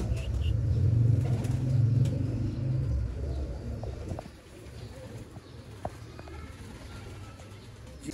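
Low coos of teddy pigeons rumble close by at first, then fade into quieter background noise with occasional faint clicks and rustles.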